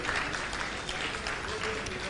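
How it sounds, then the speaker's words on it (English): Audience applause in a conference auditorium at a WordCamp event, a steady dense wash of clapping lasting about two seconds, moderately loud with a faint voice mixed underneath. "A big round of applause whoever have enjoyed our game."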